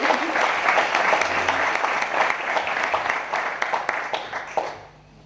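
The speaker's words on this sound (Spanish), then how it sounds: "Un aplauso para ella." A conference audience at a mystery-themed event in Zamora breaks into full applause, a thick continuous clatter with sharp individual claps that thins out and stops near the end.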